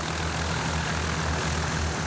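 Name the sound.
small airplanes flying at an air show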